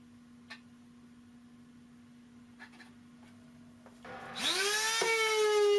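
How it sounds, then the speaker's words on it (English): A power sander starting up on the wooden edges of a homemade screen-printing drying box, its motor spinning up with a rising whine and settling into a steady loud hum after a few seconds of quiet workshop knocks. "I need to find my sander and make sure everything's flat"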